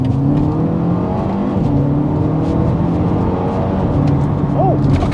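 BMW M135i, four-wheel drive with a Remus exhaust box, pulls away in a steady engine drone with gear-change steps in pitch, heard from inside the car.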